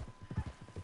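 A horse's hooves clip-clop in a steady quick rhythm in the Red Dead Redemption 2 video game, a short close run of soft thuds.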